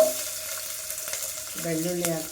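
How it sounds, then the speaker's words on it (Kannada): Sliced garlic sizzles in hot oil with popped mustard seeds, a steady soft frying hiss running throughout, with a faint tonal hum from about halfway. "ಬೆಳ್ಳುಳ್ಳಿ ಚೆನ್ನಾಗಿ ಫ್ರೈ ಮಾಡಬೇಕು, ಗೋಲ್ಡನ್ ಬ್ರೌನ್ ಬರೋ ತನಕ"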